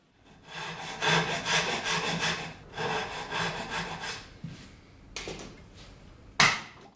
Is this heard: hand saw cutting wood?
yes